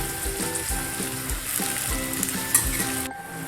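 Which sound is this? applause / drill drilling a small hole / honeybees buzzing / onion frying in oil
onion frying in oil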